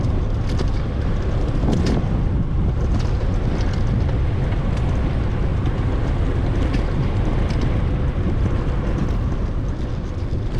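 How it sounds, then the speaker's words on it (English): Strong wind buffets the microphone during a bike ride on the Pinellas Trail, a loud continuous roaring rumble lasting the whole stretch with no talk. "We're in some wind here"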